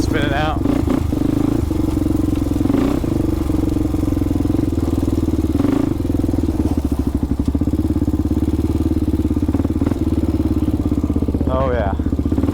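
A used four-wheeler ATV engine runs steadily and loudly throughout, a continuous close-up drone with slight revving, while people talk over it.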